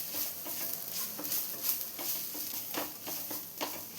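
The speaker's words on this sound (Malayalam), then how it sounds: "ലോ ഫ്ലെയിമിൽ വെച്ചിട്ട് ഇതുപോലെ ഒന്ന് മിക്സ് ചെയ്തെടുത്താൽ മതിയാണ്" Chicken pasta sauce is stirred in a pan over a low flame, giving a soft continuous sizzle with repeated scraping and tapping strokes of the spoon at an even pace.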